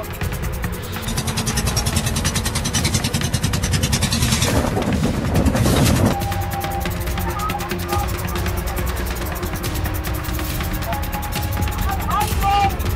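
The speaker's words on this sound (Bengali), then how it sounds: "আর একদম জেনারেটরের আওয়াজে কিছু কিন্তু বুঝতে পারবে না তোমরা।" A generator drones loud and steady aboard a boat on a rough, wave-tossed river, its rapid pulsing throb filling the scene, with the pitch shifting partway through as voices talk under it.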